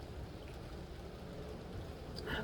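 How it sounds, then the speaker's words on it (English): Steady outdoor rain hisses as a soft, even wash with low rumble underneath, continuous and fairly quiet throughout. "It's raining out, which is beautiful. God, I love the rain out here."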